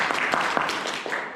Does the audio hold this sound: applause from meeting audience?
yes